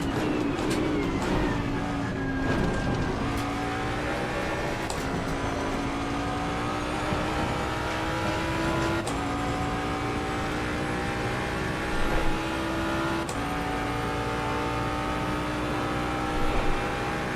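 A Mustang GT3 race car engine in Assetto Corsa Competizione at Monza or Misano, heard from the cockpit: a loud sustained drone rising in pitch through each gear, punctuated by sharp upshifts at regular intervals.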